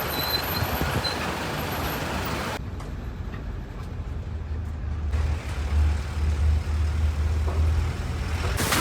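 A Tata Yodha camper van drives along a road, a steady loud rumble of engine and tyre noise from inside the cabin, with a deep low drone and bumps in the latter half, no talking.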